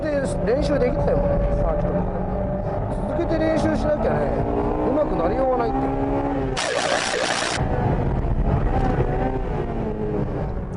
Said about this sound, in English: And the engine is still running strong.